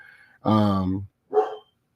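A dog barks close by, one long, drawn-out bark followed by a shorter one.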